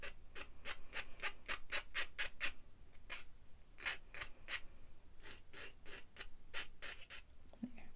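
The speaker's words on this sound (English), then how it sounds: "So I'm just going to use my file" A metal file scrapes burrs off jewelry wire in quick rhythmic strokes, bursts of steady scratching separated by short pauses, close and clear without talk.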